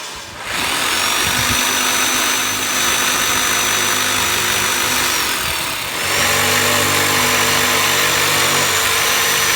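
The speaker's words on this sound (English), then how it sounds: "we'll cut as much as we can with the miter saw and then the table saw" A miter saw whines loudly and continuously, its motor pitch shifting slightly partway through as it cuts a wooden window sill, with no voices.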